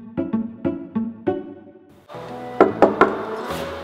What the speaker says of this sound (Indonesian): Kenapa sih kamu ketok-ketok pintu aku terus?